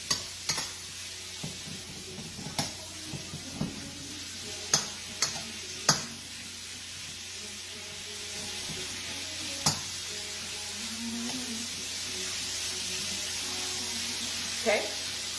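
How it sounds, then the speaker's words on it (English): Thinly sliced beef fries in a pan with a soft continuous sizzle while a utensil scrapes and taps the pan in irregular knocks, close and fairly quiet. "we're letting our beef cook"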